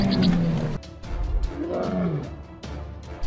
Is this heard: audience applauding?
no